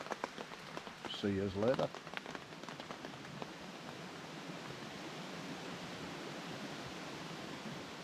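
Steady rain patters on a bivvy camp at night in the wet outdoors, a constant hiss of drops on fabric, with a brief spoken voice near the start before the rain carries on alone.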